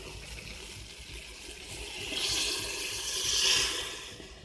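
About one litre of water pours steadily into a pot of rice, gourd and soybean khichdi, a continuous splashing gush that swells toward the end with no talking.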